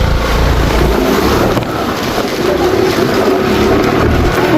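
Vehicle on a rainy road in heavy rain splashing through a water crossing, a steady loud wash of water and wind roar close to the microphone, without a break.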